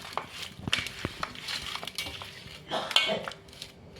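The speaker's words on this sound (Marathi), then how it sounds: "तर आता ह्याला असं मिक्स करून घेते मी" Fish being mixed by hand with Kashmiri chili powder and spices for a Raja Rani fish fry, giving soft wet squelching and scattered clinks of a bowl and utensils, close and fairly quiet, with no talking.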